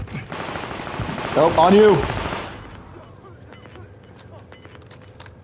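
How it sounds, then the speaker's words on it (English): Gunfire in the video game Call of Duty: Modern Warfare, a burst of rapid shots mixed under a shouted voice, then scattered sharp distant pops and clicks as the voice fades. "They just shot from inside the building."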